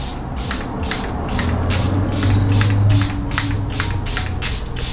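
Repeated short hissing bursts of a Charlotte Tilbury Airbrush Flawless setting spray bottle, about ten quick pumps in a steady rhythm, close and fairly loud, with no talking.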